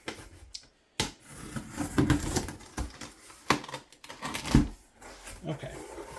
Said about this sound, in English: Cut the tape here.